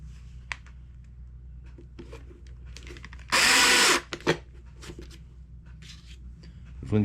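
Power drill driving a small self-tapping stainless screw into a 12-volt portable power station build, one loud close whir of about half a second amid quiet handling clatter and a few light knocks.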